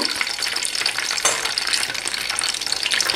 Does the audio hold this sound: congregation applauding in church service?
no